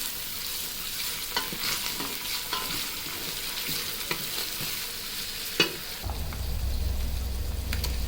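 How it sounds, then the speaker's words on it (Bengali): Onion and garlic cloves frying lightly in a pan for khichuri, a steady sizzle with scraping stirs throughout, and a louder, rougher sizzle near the end. "পেঁয়াজ একদম বেরেস্তার পর্যায়ে না ভেজে আমরা হালকা করে ভেজে নেব।"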